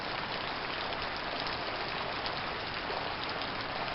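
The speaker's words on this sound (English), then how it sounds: "It's been raining for about," Rain falls steadily outdoors in freezing weather, a dense even hiss with no breaks and no voices.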